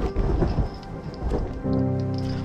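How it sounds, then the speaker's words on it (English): A thunderstorm in the Minecraft video game, with steady heavy rain and a deep rolling rumble of thunder that swells and continues through the clip, loud and close, with no talking. "It is a thunderstorm."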